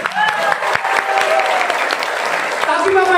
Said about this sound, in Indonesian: Kalau mau tepuk tangan jangan setengah-setengah